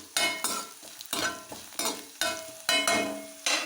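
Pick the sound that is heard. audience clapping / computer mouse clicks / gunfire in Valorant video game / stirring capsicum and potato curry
stirring capsicum and potato curry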